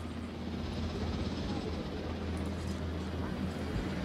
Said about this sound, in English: Why is this chopper the slowest?